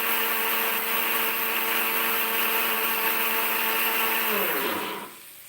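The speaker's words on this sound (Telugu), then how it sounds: "పసుపు వేసి దీన్ని ఈ లోపల ఈ మిక్సింగ్ అంతా గ్రైండ్ చేసేస్తాం" A mixer grinder whirs steadily as it grinds a rice rava mixture with turmeric, a loud continuous motor drone with a steady pitch that slows and winds down near the end of the run.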